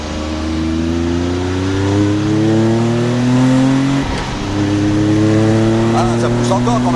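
Car accelerating hard on the Le Mans 24-hour circuit, engine note climbing steadily through the gears with a brief dip at a shift before pulling again, loud and close from inside the cabin.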